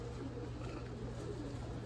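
Pigeons in a loft at a pigeon club coo softly and steadily against a dense, low background murmur, with no clear break in the sound.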